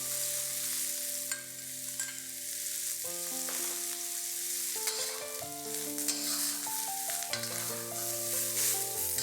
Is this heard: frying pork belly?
yes